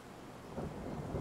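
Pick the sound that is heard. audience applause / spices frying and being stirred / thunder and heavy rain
thunder and heavy rain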